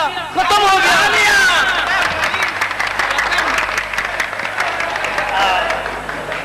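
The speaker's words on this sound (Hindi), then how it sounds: "आपने ताली बजाया है जी, हमारे बोलने पे बजाया है जी।" Audience applause during a live stage comedy show, loud and sustained for several seconds, with crowd hubbub and cheering mixed in and voices talking over it.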